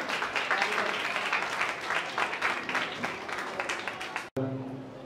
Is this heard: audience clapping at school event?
yes